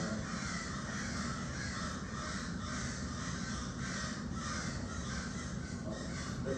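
Crows caw repeatedly in broad daylight in Parkside, upset at a bobcat nearby. Their harsh calls sound loud and persistent over a steady wash of background noise.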